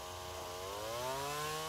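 A chainsaw runs while carving wood, its engine pitch climbing smoothly as it revs up, a continuous close buzz with no voices.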